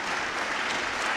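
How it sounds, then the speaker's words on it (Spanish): A short, steady burst of crowd applause at a forum on light-pollution control, honoring Elizabeth Padilla; dense, even clapping heard alone, fairly soft. "se merece un aplauso que esto se caiga en cantos aquí"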